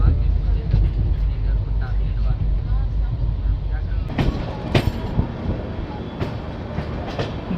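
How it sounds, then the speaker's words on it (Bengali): The Howrah–Darbhanga Express rolls on from Durgapur toward Asansol, a loud steady rumble inside the coach with sharp wheel clatters and clicks growing in the later seconds, with muffled voices faintly underneath. "দুর্গাপুর থেকে ট্রেন ছেড়ে দিয়েছে, এবার ট্রেনের হল্ট হতে চলেছে আসানসোলে"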